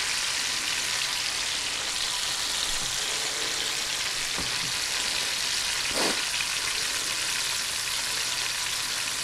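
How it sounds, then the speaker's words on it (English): Steak frying in a pan, a steady dense sizzle and crackle with a brief soft clunk midway, close and continuous. "I just love listening to that sizzle."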